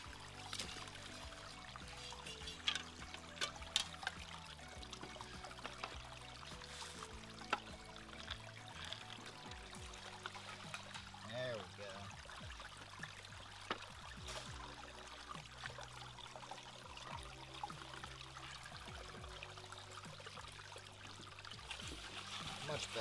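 Creek water trickles and pours steadily around gold-prospecting gear, a continuous faint burble with occasional small splashes, close by and quiet throughout.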